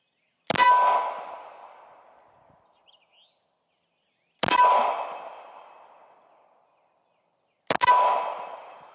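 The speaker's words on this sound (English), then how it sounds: "I'm going to shoot the other target." Three 9mm rounds from a Ruger RXM pistol, 147 grain bonded jacketed hollow points, each striking a steel target with a sharp metallic clang that rings out and fades over a couple of seconds, evenly spaced with no talk.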